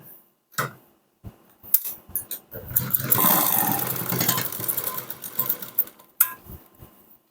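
A sewing machine stitches along a folded cloth strip, running in short bursts and then one longer steady whir, with clicks and handling noises between them.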